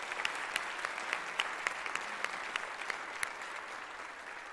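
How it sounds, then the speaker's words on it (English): Audience applause at an interfaith housing convening, a steady sustained clapping from a sizeable indoor crowd, dense and even throughout with no talk over it. "That deserves a round of applause."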